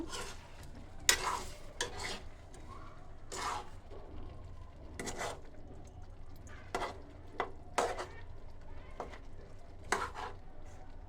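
Bata fish being stirred into spice paste in a pan, a series of distinct spoon-scraping strokes repeating every second or so over a faint sizzle, close and fairly quiet.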